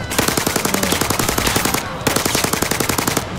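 Gunfire in the VR shooter ZeroCaliber comes as loud, rapid automatic bursts. Two sustained strings of shots are split by a brief pause, and they sound close and dense.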